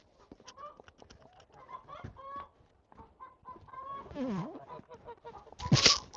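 Geese honk and cackle near and far in a farmyard flock, with scattered calls building to a louder, harsher honk toward the end, a low murmur of voices faintly underneath.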